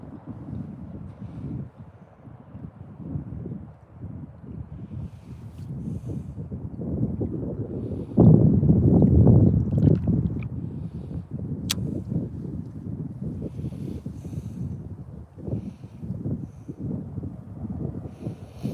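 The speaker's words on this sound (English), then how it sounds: "Starting to get a little bit too windy for this tripod out here." Blustery wind by the water during steelhead fishing rumbles against the microphone in uneven gusts, swelling to a heavy roar midway before easing back to a steady low buffeting.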